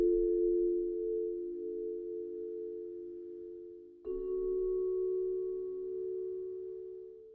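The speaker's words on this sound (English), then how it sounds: "I'm just using the vibes from BBC Symphony Orchestra." A sampled vibraphone from the BBC Symphony Orchestra library plays two long sustained notes, each struck cleanly and left to ring with a gentle, steady shimmer. The second note enters about halfway through, and the sound is soft and even.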